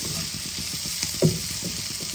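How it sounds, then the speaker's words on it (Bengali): Chopped onions frying in a pan for an egg and potato curry give off a steady close sizzle, with a brief clatter of stirring midway and no talk. "ভালো করে লাল লাল করে ভাজবো পেঁয়াজগুলোকে"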